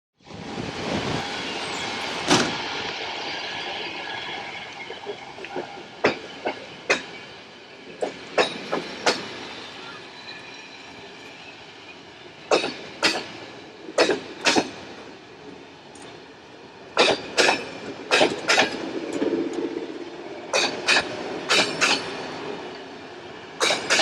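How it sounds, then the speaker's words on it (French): A train rolls steadily along rails at 70-80 km/h through rural Bulgarian countryside, a continuous rumbling hum punctuated by sharp, irregular clacks and clicks from the wheels over joints. "Notre train roule bien régulièrement dans les 70-80 km/h."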